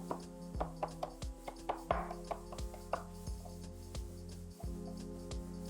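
Green onion beaten with the back of a knife on a cutting board, producing a series of irregular thuds and knocks with some rubbing, over a steady low background hum.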